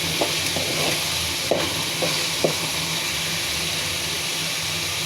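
Spice masala sizzles steadily in hot oil for an eel-fish bhuna curry, a dense continuous frying hiss close by, broken by a few faint clicks of a spoon against the pan.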